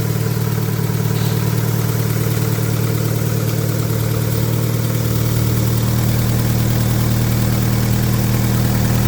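A VW Golf 4 engine idles with a leaking exhaust flex pipe, giving a steady, loud, close-up drone with a deep humming rumble that holds evenly for the whole stretch, with no voices.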